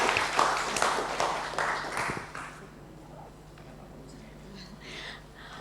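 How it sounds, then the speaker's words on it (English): Seminar audience applause at the close of a session, a short burst of clapping from a modest crowd that fades out after a couple of seconds into quiet room tone. "So please give round of applause"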